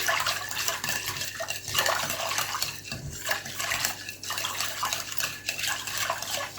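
Dry yeast is stirred into water with a spoon, giving steady close swishing and sloshing with soft scraping against the bowl and no talk.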